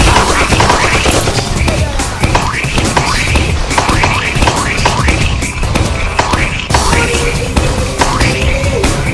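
Roblox gunfire rattles in dense, rapid bursts of loud shots that fill the whole stretch, with echoing game effects and a hint of players' voices underneath.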